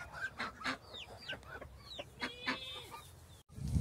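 Leghorn chickens and chicks cluck and peep close by, trading quick chirps and chattering calls as the chicks squabble over a worm.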